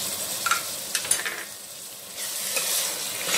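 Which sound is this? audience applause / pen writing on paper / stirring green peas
stirring green peas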